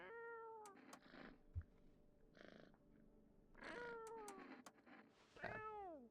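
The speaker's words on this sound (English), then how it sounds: "Cat." A cat in a video game meows several times with drawn-out, falling cries, interspersed with purring and soft rustles, close and clear against a quiet background.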